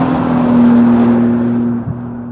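A 2013 Bentley GT Speed Convertible drives along a barren American road, its engine a loud, steady drone with a strong low hum that fades slightly toward the end, heard alone without talk.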